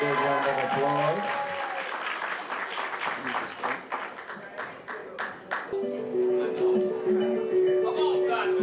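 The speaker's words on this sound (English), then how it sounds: "Big round of applause for her" Applause from party guests for a performer at a retirement party, scattered claps mixed with voices and music, with a sustained musical tone coming in near the end.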